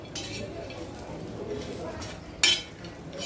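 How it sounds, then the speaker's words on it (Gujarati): Roasted peanuts being sautéed and stirred with masala in a pan over a low flame: soft, steady scraping and stirring with light rattles and one sharp metallic clink near the end. "સિંગદાણાને સારી રીતે મસાલો કોટ થાય એ રીતે આપણે એને સાતળી લેવાના છે"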